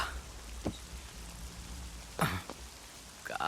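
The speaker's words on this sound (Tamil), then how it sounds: "காலையிலே மழை பெஞ்சு இரிட்டேட் பண்ணிட்டு இருக்கு." Morning rain falls as a steady, soft broadband hiss, with a few sharp nearby knocks and rustles breaking through and no one speaking.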